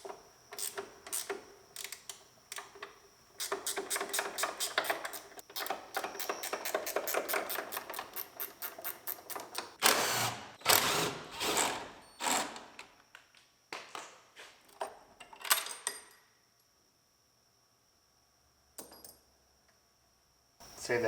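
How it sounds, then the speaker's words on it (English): A ratchet unbolts the door hinges on a car under repair, rapid clicking runs of the pawl in bursts between louder clanks and knocks, close and fairly quiet, with brief quiet gaps near the end. "So I'm just going to unbolt them."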